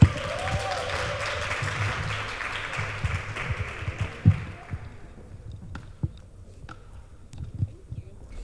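Audience at a book launch clapping, a moderate burst of applause that thins out after a few seconds into scattered claps and small knocks in a quieter room.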